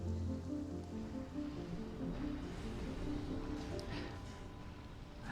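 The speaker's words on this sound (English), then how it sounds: "Dust storm approaching" A dust storm sweeps across the surface in the video game Surviving Mars, a steady rushing, hissing roar with a low tonal hum beneath it, sustained and even throughout.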